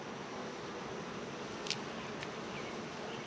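Honey bees hum faintly at an open hive that sits unusually still and calm, a low steady insect drone under hiss with a couple of brief brighter buzzes as single bees pass close.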